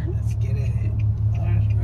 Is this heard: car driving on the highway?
yes